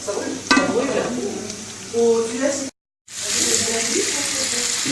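Onion cooks in butter with cinnamon for a chicken tajine, making a close, moderate sizzle with stirring noises, cut by a brief moment of silence before the frying resumes.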